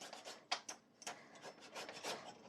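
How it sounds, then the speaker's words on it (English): Nutmeg grated on a kitchen rasp in quick back-and-forth scraping strokes, a soft, close, rhythmic rasping with no speech. "10 back and forth on the nutmeg, and don't forget to turn the rasp over to get it out"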